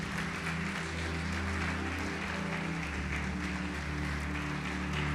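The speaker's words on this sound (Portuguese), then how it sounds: "Pode aplaudir e glorificar o Senhor." Church congregation applauding to glorify the Lord, continuous clapping layered over steady low organ-like tones and hum throughout.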